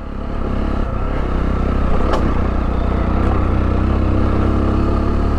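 Sinnis Terrain 125 motorcycle plodding along a lane in third gear, a steady loud single-cylinder engine drone held at an even pace throughout.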